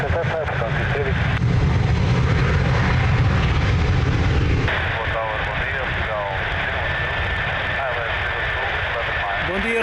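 Aircraft engines roar steadily at Lisbon Airport, a loud continuous drone that shifts in tone midway, with radio chatter and talk running over it throughout.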